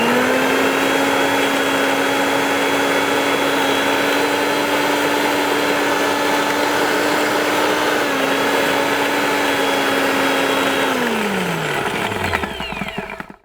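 A Bajaj GX1 500W mixer grinder grinds masala paste with a loud, steady whining motor drone. The drone runs unbroken for several seconds, then winds down and stops near the end.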